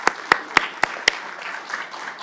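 A few loud, separate hand claps at a county board of supervisors meeting, about five sharp claps in quick succession that fade into a brief murmur of the room.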